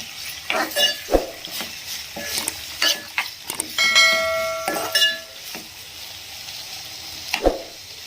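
Onion and chopped tomato fry in a pan for a moong dal and purslane curry, with a hissing sizzle, sharp utensil knocks and a ringing metallic scrape against the pan.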